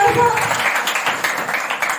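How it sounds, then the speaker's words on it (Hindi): A seminar audience in Gaya applauds a mentor with a dense, continuous wash of clapping that stays fairly loud and even, with some voices mixed in. "माननीय श्रीमान मिस्टर नरेश कुमार मिश्रा सर के लिए जोरदार ताली बजाएं।"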